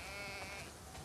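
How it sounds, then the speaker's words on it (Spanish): Sheep bleating in the video game The Last of Us Part II, a single close, drawn-out bleat lasting about a second, heard alone. "Vaya, son muchas ovejas."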